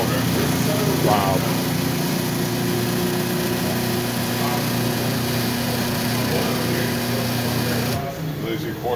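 A coffee grinder at Coniglio's Old-Fashioned in Morristown, NJ grinds beans for a quarter pot, its motor holding a steady, loud whine for about eight seconds before cutting off, with faint voices underneath.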